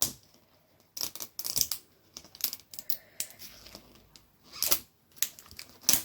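Plastic zip on toy doll packaging tugged open in short rough bursts of ripping and crinkling, close and fairly loud, with pauses between pulls and no talking.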